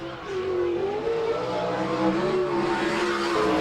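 A sprint car howls around the Salina oval on a timed lap, its loud engine note wavering as it rises and falls through the turns with hints of tire scrub.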